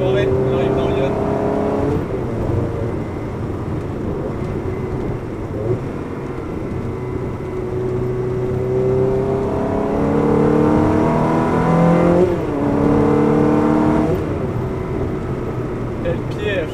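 A Ferrari 360 Modena drives on a road through France, its engine note rising and falling as it accelerates, with steady road and wind roar throughout and someone talking over it.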